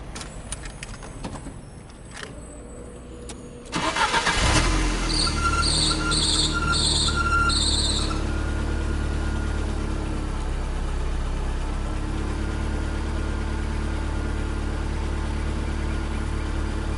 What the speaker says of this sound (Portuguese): Ouçam que belezinha a partida dele, como é uma partida que parece carro novo.